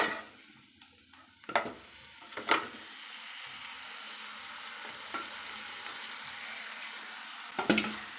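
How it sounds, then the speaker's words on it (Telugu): Boiled chicken feet frying in a pan give a steady low sizzle with a few sharp stirring clatters near the start and end, close and moderately loud, no talk. "ఇప్పుడు ముందుగా ఉడకబెట్టుకున్న కోడి కాళ్ళు దీంట్లో వేసేసుకోవాలి"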